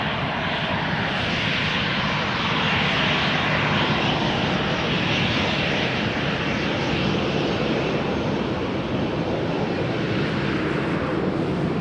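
A small-fuselage Boeing 737-700 airliner at Amsterdam Schiphol's Polderbaan runway roars with loud, steady engine noise, a dense broadband rumble and hiss that holds evenly throughout with no talk.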